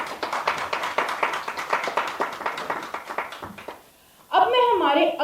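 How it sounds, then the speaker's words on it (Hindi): Audience at a student poetry competition clapping for a performer, rapid steady handclaps that taper off, followed by a voice speaking. "जोरदार तालियां एक और बार"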